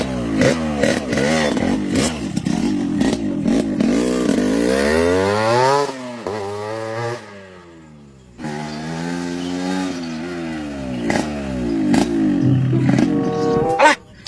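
Mang Jack's motorcycle revs loudly and close by, its engine pitch rising and falling in repeated roaring sweeps, briefly dipping quieter midway before surging again, with no talk.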